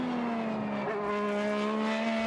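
An IndyCar race car at speed during qualifying at Road America in 2026 gives a steady, loud, high-revving engine drone whose pitch dips briefly and then holds, heard alone without voices.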